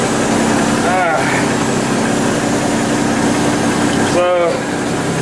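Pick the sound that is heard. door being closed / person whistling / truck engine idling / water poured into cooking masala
truck engine idling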